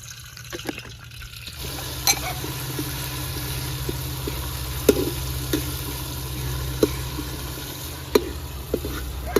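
A pot of kadhi bubbles and simmers over an outdoor farm fire, a continuous broad hiss broken by scattered sharp pops and ladle clinks.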